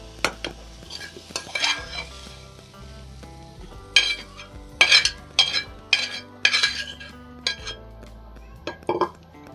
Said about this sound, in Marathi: मी आता ॲड करणार आहे आपण जी भाजी वाफून घेतली होती ती भाजी मी ॲड करणार आहे आतमध्ये.